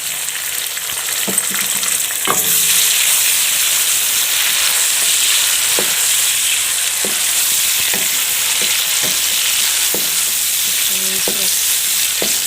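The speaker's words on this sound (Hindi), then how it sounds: "तो अब मैं इसमें ये टमाटर और हरी मिर्च डाल देती हूँ।" Tomatoes and green chillies are tipped into browned onions frying in a pan for an aloo baingan curry, giving a loud continuous sizzle with occasional clinks of a stirring spoon, and no talking.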